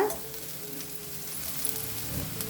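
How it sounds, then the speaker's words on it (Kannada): Cauliflower stir-roasts in a pan on high flame, a steady close sizzle with soft scraping stirs, fairly even throughout, with no talk. "ಇದನ್ನು ಹೈ ಫ್ಲೇಮಲ್ಲಿನೇ ಈ ಥರ ಹುರ್ಕೋಬೇಕು"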